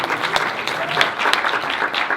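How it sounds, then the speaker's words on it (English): Audience applause after a community discussion on how Cuba survived peak oil, an even, sustained patter of many hands clapping close by, with a few sharper claps popping out. "Feel free to keep clapping and give me a round of applause."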